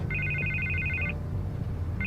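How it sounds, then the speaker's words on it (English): A telephone rings in the Batman: The Telltale Series video game, a steady electronic double-trill burst lasting about a second, then a pause before the next ring starts, over a low background hum. "I can't get the phone to stop ringing."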